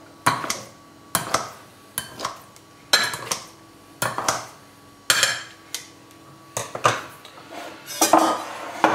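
Leftover poultry is chopped coarsely in a bowl with a utensil, making about a dozen sharp, close knocks and clinks against the dish at an uneven pace, with no talking.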